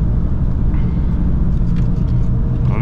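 A 1983 Dacia 1310 with a 1.3-litre 8-valve 54 hp engine drones steadily from inside the car while driving, a constant low rumble with no breaks across the clip.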